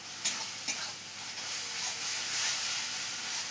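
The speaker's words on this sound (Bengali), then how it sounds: "অল্প জল দিয়ে আর একবার ভালো করে ভেজে নেব আমি যাতে কাঁচা গন্ধটা চলে যায়" A spice paste fries with a little water over a very hot fire, giving a steady hissing sizzle that swells toward the end, with two brief scraping stirs near the start, close and fairly quiet, with no talking.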